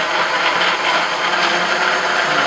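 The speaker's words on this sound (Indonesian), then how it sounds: "Nah, ini sudah di blender ya." An electric blender grinds traditional Nias herbal medicine ingredients, a loud, continuous whirring roar with a steady level and no voices.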